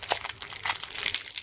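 A plastic bag wrapping 18650 lithium-ion cells crinkles and rustles close to the microphone in several quick, crackly bursts.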